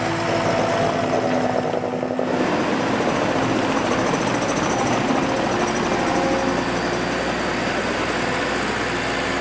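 An old tractor engine runs steadily on a farm during spring work, a loud, continuous rumbling drone with mechanical clatter that holds from start to finish.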